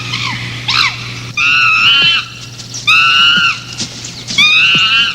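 A chimpanzee gives loud, shrill screams in three long bursts, with shorter cries between them over a steady low hum.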